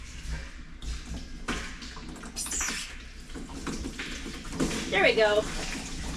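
Water trickles through a short hose into a loft water tank in a steady, moderate flow, with people talking over it.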